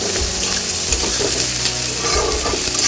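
Onions being stirred and browned in oil in a pan, a loud steady sizzle with repeated spatula scrapes and stirring movements running under it.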